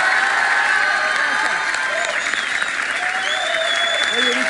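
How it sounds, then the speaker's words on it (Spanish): Sustained, dense applause from a television studio audience for actress Victoria Ruffo, loud and steady from start to finish, with a few voices and whoops mixed into the clapping. "Un aplauso a Victoria Rufo"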